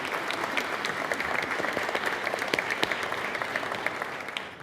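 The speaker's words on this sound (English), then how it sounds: "could you give a round of applause to my exec team for fielding all of that?" An audience applauds the executive team at a conference event, a steady dense wash of clapping from a crowd that holds for several seconds with scattered sharper claps standing out.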